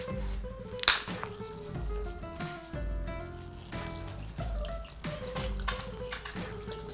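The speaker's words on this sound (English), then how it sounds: "then you just top the whole thing with your soda water here" Soda water poured from a bottle into a Tom Collins cocktail glass, a steady close trickling pour with a soft splash near the start and faint fizz throughout.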